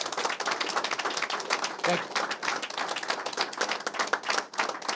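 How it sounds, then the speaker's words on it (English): A crowd claps and applauds at a Detroit press conference, a dense steady patter of many hands filling the room while a voice speaks briefly over it. "So give them a round of applause"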